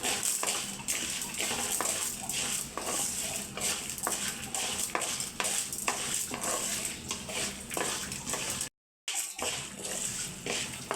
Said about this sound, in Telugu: ఇవన్నీ ఆయిల్ వేసేస్తున్నాం ఇవి ఫ్రై చేసుకోవటం